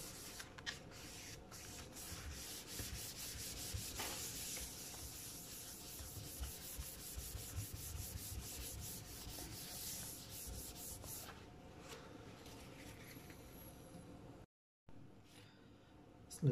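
Cloth wiping and rubbing a laptop's surface with rubbing alcohol, a steady close scrubbing and swishing that runs continuously with a brief silent break near the end.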